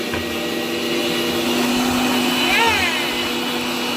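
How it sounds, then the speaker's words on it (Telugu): A kitchen mixer grinder grinds masala, a continuous loud motor whine and hum that holds steady for the whole stretch, swelling slightly near the end. "ఆ మసాలా మిక్సీ పట్టడం అయితే అయిపోయిందండి"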